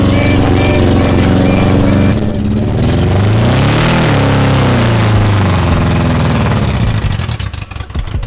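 A BMW E36 drift car engine, exhaust not yet fitted, revs loudly up and down close by, its pitch climbing and falling in sweeping surges before settling into a rough, sputtering rumble.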